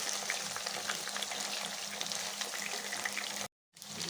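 Chicken meat frying in oil, a dense, continuous crackling sizzle held at an even level, briefly cutting out to silence before resuming.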